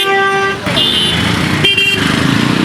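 Vehicle horns honking in busy road traffic, steady tonal blasts running nearly the whole time with a brief break, loud and close over a constant engine rumble.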